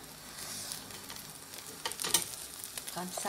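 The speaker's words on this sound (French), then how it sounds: "je vais riller, voilà, les brochettes pour terminer la cuisson" Duckling leg skewers sizzle and fry steadily on a hot surface as they finish cooking, with a brief spoken remark over the continuous crackle.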